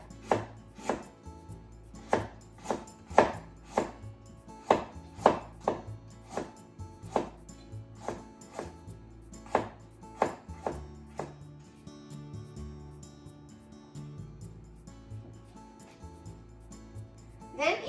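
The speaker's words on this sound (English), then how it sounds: "let's slice the ginger" A knife slicing peeled fresh ginger into very thin slices on a cutting board, with crisp, close, regular chopping taps that slow and fade toward the end.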